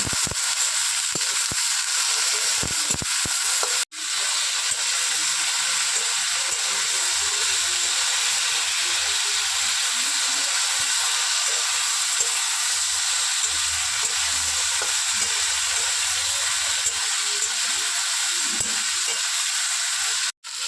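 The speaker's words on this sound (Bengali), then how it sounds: "এবার ভেন্ডিটাকে ভালোভাবে ভেজে নেব।" Okra (ladyfinger) frying with turmeric in a pan: a loud, continuous crackling sizzle held close for the whole stretch, broken by one brief pause early on and a short dip at the very end.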